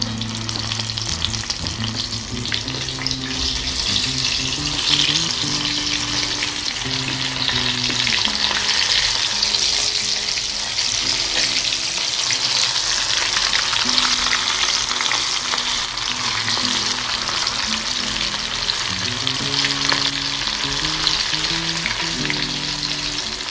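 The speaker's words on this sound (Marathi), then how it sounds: "आता इकडे मस्तपैकी कोळंबी फ्राय करता आई सेम त्याच वेमध्ये" Prawns and bombil frying in hot oil for a Konkani fish fry, a loud, continuous dense sizzle and crackle lasting throughout, with no voices.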